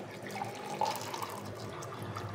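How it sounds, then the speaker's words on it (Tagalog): Hot water poured into a cup to make coffee, a faint steady trickling stream close by in a quiet room. "Salin tayo ng hot water natin."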